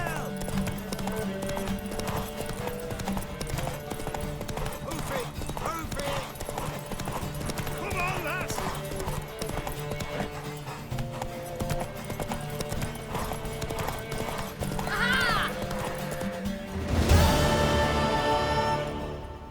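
Horse hooves clip-clop in a fast, steady gallop during a race in The Witcher 3, with voices speaking over the hoofbeats and a louder burst near the end.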